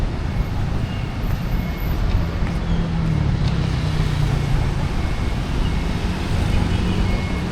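Continuous street traffic in Cebu, Philippines: a dense, steady roadway rumble of cars, buses and motorbikes close by, with an engine drone passing through.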